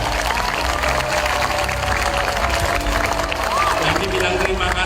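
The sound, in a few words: children applauding the mothers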